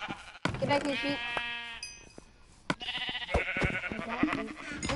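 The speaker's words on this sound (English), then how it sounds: "Get back here, sheep." Sheep bleat in a blocky Minecraft-style video game, several short harmonic bleats rising over ongoing conversation and game noise, fairly close and clear.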